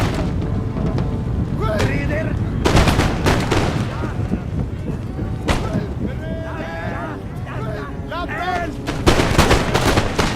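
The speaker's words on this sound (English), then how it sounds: "Alright, now they're coming through. I can start shooting." Musket volleys from line infantry in Empire: Total War, a battle against Cherokee forces, with repeated loud gunshot bursts and booming artillery over a dense battle din, alongside continuous speech.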